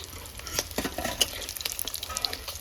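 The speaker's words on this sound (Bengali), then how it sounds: "মাছ খুব ভালো করে ভাজা হয়ে গেছে" Fish pieces frying in a pan, with a continuous sizzle broken by scraping stirs and small crackling pops, close and moderately quiet.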